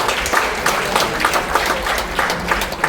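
Audience applause at a book launch ceremony at the National Assembly Museum: a dense, even wash of clapping from many hands, fairly loud and continuous for a few seconds.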